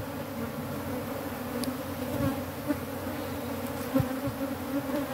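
Honey bees from a defensive hive being split buzz steadily all around, a dense droning swarm with occasional louder passes as individual bees fly close.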